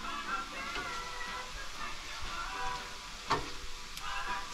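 Stir fry of steak, rice and veggies cooking aboard a boat at a quiet anchorage, a soft, steady sizzle with faint clinks of stirring, low in level and without speech.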